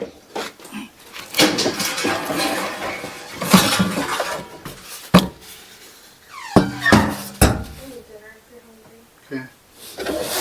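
Sheet-metal floor pan being test-fitted into a rusted 1998 Suzuki Samurai, with loud clanks, bangs and scraping metal knocks in irregular bursts, close by, alongside talk in a workshop.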